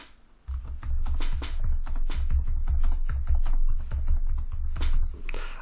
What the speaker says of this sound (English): as I'm typing, you'll notice it tries to find answers too